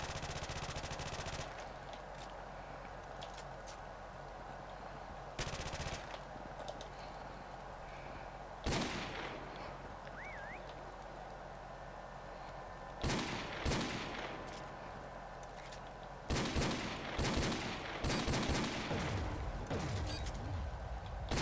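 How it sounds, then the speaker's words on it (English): Gunfire in Call of Duty Modern Warfare Remastered prop hunt mode, with bursts of shots scattered through a steady game background, coming closer together and denser toward the end. "Trying to shoot everything."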